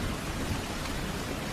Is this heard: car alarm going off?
no